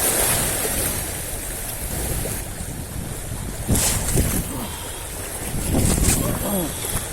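Strong wind buffets the microphone at a rocky shoreline during quick casting, a steady broadband roar with surf washing underneath and louder gusts swelling around the middle and end, faint voice fragments mixed in.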